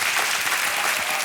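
A game show studio audience bursts into brief, loud, dense applause, a full crowd clapping together in a short sustained burst.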